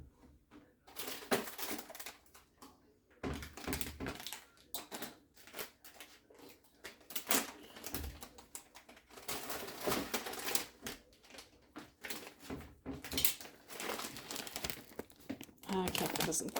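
A party-size bag of scoop tortilla chips crinkles and rustles loudly and repeatedly in close bursts, with a person talking at times over the handling.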